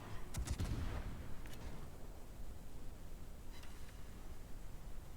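Naval guns fire armor-piercing shells in a warship video game, a dull, distant boom early on followed by faint rumbling and a softer later report.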